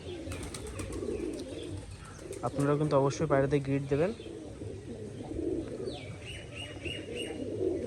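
Pigeons eat grit and coo, one clear rolling coo sequence up close among softer calls and a few chirps, while someone talks over them.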